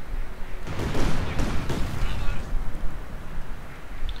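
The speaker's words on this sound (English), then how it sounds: "It looks like he's going to clear up with an opening barrage." An artillery opening barrage in the Company of Heroes 2 video game, a series of booming blasts and rumbling impacts in quick succession, with a commentator talking over them.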